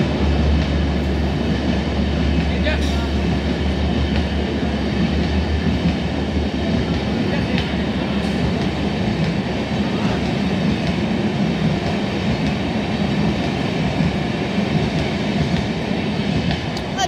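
A Tejas Express train rumbling past loud and close, heavy steady roar of rolling wagons with faint wheel clicks throughout.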